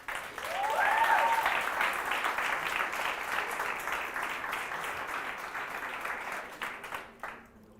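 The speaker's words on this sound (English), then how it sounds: "let's give a warm round of applause and welcome Andre to the stage." A crowd applauds warmly, a dense burst of clapping that swells at first, holds steady, then tapers off near the end.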